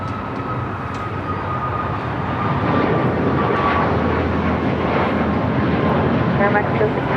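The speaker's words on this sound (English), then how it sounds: "This is Air Mexico 645 taking off to Mexico City on a MAX 8." An Aeromexico Boeing 737 MAX 8 jet takes off from LAX for Mexico City, its engines producing a loud, sustained roar that builds slightly, while a voice talks over it.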